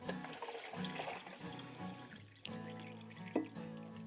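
Water poured into the dry tray of a sharpening stone, a steady gurgling, splashing flow with shifting tone, close and moderately quiet with no speech.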